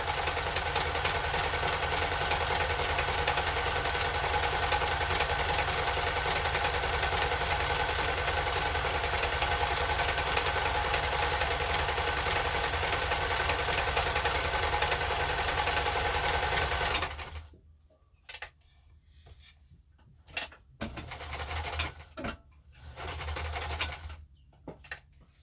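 A Kenmore 10-stitch sewing machine stitching fabric with a steady, close, continuous motor whir for a long stretch, then stopping abruptly, followed by scattered clicks and handling noises.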